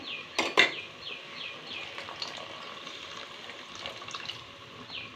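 Water trickles into a cooking pot of sprouted-pulse and greens curry in a home kitchen, with a sharp metal clank of utensils at the start, then a soft, steady pour and faint clinks.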